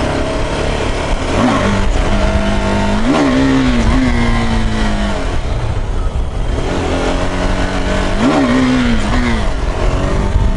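A KTM Adventure 390 motorcycle engine revs hard and loud through rising pitch sweeps, with two or three clear upshifts as it accelerates, close and continuous, no talking.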